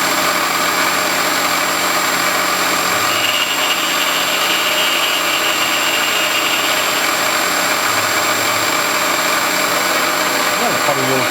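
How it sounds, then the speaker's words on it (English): A conventional milling machine cuts the sides and barrel bore of a carburetor body with a steady, loud, unbroken drone that holds at the same level throughout with no talk. "I'll do the open setup on the conventional mill. Mill the sides, do the barrel bore"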